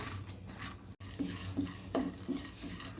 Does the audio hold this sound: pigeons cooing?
no